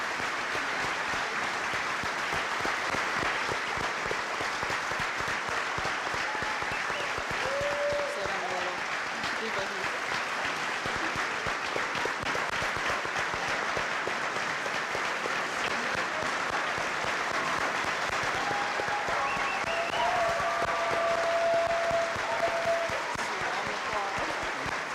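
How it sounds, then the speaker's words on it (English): A crowd at a war and remembrance event gives long, steady applause for veterans and active military personnel, a dense moderate clapping that carries on throughout while a few brief voices and tones surface faintly within it. "Please join us in a big round of applause to thank our veterans and active personnel here with us today"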